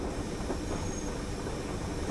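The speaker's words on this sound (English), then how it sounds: "Lots of braking." Class 101 diesel train braking on a regional line, heard from inside as a steady, fairly faint rumble with a thin high squeal running through it.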